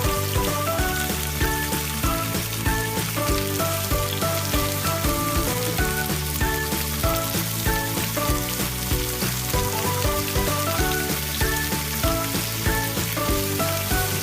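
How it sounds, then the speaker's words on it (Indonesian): Tofu fries in hot oil in a pan, giving a steady, even sizzle that runs the whole time under tuneful background music. "Langkah pertama ini kita akan goreng dulu tahunya ya."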